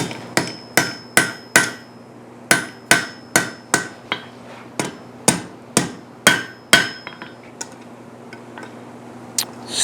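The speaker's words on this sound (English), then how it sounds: "I'm going to squeeze this in just by hand, maybe a little bit of hammer." Hammer blows seating a metal trivet piece into place, a series of sharp, ringing strikes in uneven bursts, close and loud, tapering off near the end with no talking.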